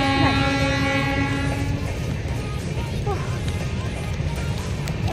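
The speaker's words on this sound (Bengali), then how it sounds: "ট্রেন যাচ্ছে। দেখো দীঘা যাচ্ছে, সানডে স্পেশাল দীঘা" A passing Sunday special train bound for Digha rumbles close by with a steady clatter, opening with a horn blast that fades after a couple of seconds.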